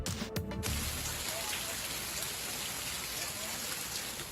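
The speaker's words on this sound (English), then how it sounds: "This is hail and plenty of it." Heavy hail falls during a Metro Detroit storm, a dense, continuous patter and clatter on surfaces. Brief sharp knocks sound near the start, and no voices are heard.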